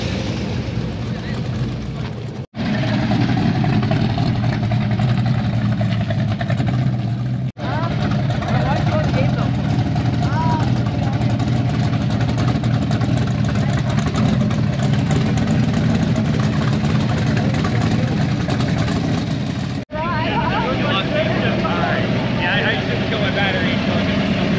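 A drag race car burning race gas idles with a rough, steady low rumble at a Sick Week gathering at Coney Island Drive Inn, with people talking over it and several brief cuts in the sound.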